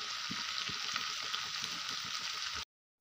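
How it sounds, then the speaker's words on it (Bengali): Country chicken meat, marinated in spices, fries in a pan with a dense, steady sizzle and a few soft stirring knocks, close and continuous before cutting off abruptly. "এদিকে মাংস ভাজা হয়ে গেছে"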